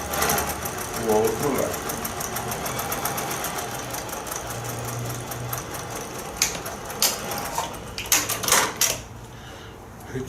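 A sewing machine stitches pale, light-coloured fabric with light thread in a continuous fast mechanical whir, under someone speaking Portuguese, with a few clunks and clicks near the end.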